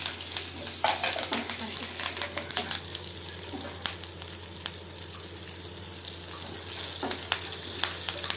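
Dried red chilies and curry leaves frying in hot oil in a home kitchen, a steady close sizzle with scattered crackles and pops across the whole stretch, no talking.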